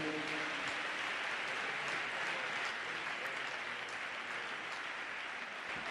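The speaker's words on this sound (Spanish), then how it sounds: "Por favor, otra vez un fuerte aplauso al pastor" Applause for a pastor in a large church auditorium, a dense, even patter of clapping from a big crowd, fairly distant and soft, continuous throughout without a break.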